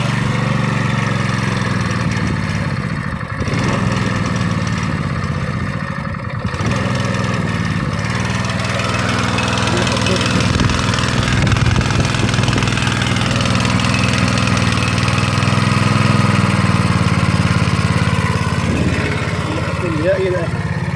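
A motor driving a well water pump for field irrigation runs with a steady low throb, loud and close throughout, while voices talk over it intermittently.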